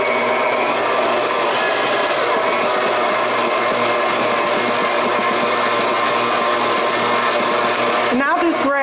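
A kitchen stand mixer fitted with a dough hook churns about two cups of flour, a loud steady motor whir with rhythmic mechanical rumble that runs throughout and cuts off near the end.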